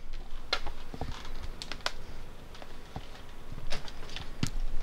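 Sparse clicking keystrokes on a computer keyboard while logging into a desktop PC after a memory upgrade, irregular and faint over a steady background hum.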